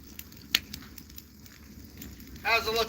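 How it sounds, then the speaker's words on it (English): A fire crackles during outdoor cooking of soup, grilled cheese and sausage, with sharp scattered pops over a soft hiss and a brief voice-like burst toward the end. "Oh wow, listen to that crackle."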